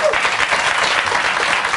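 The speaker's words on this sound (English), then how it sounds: "The audience applauds that" Convention audience at the Republican National Convention applauding a speech, a dense, steady wash of clapping from a large crowd filling the whole stretch without a break.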